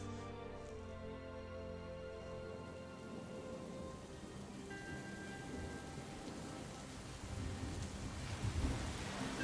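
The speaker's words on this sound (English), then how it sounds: "The rain falls sideways as thunder and lightning flashes and rolls overhead." A dark thunderstorm with rain falling sideways, steady hissing rain under low rolling thunder that swells louder toward the end.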